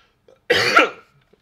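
A single harsh cough, close and clear, in an otherwise quiet room.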